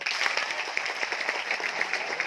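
An audience in a hall claps on cue, a moderate patter of many hands that stays fairly even for a couple of seconds without speech.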